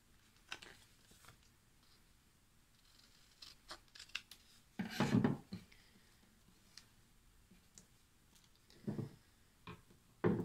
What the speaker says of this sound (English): I'm just going to cut that away.